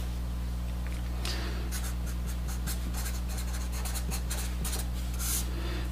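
Pen or marker writing steadily on a board while a capacitor diagram is drawn in a physics lecture on dielectrics, with short scratchy strokes over a constant low electrical hum and no talking.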